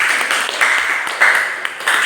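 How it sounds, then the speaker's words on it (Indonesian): Classroom students clap for a group after its presentation, a moderately loud, uneven patter of hands that swells and dips in bursts across the short span. "Tepuk tangan untuk kelompok."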